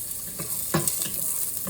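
Soy sauce chicken wings and ribs sizzle in a pot as they stir-fry, a steady hiss broken by several scraping stir strokes, close and fairly loud with no talking.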